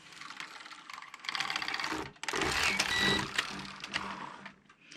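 Passap E6000 knitting machine carriage sliding across the needle bed on an empty row, giving a close, busy mechanical clatter and whir with a short pause midway before the carriage runs again.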